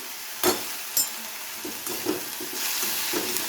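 Onions and green chili paste fry in a hot pan, giving a steady close sizzle broken by the scrape and clatter of a spoon stirring against the metal.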